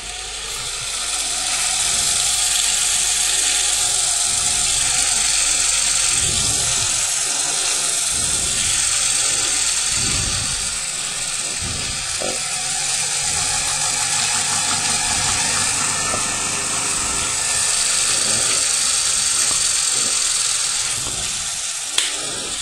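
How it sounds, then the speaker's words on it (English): A 240 volt, 50 hertz, 450 watt electric motor runs steadily with a high, buzzing whine and a humming drone underneath. It is loud and close and holds its pitch for the whole stretch. "So this is the motor running."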